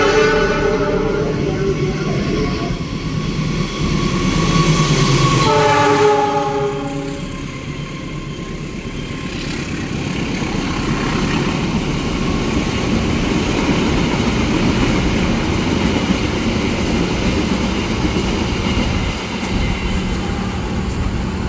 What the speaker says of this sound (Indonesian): ini dia kereta api Parahyangannya bersiap akan mendahului kita di stasiun Cikarang